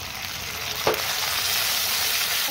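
Half a tomato drops onto fried onions and chillies in oil for rui fish kalia, a sharp burst of sizzle followed by a steady close frying hiss.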